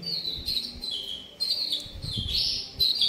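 A yellow (kuning podang) finch-type songbird chirps in repeated bright, high tweeting bursts, fairly close, with low background rumble and no talk.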